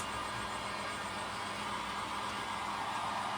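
A hair dryer runs steadily, drying paint on a farmhouse-style wooden Christmas tree farm sign; a constant close, even hiss-roar fills the whole stretch with no talk.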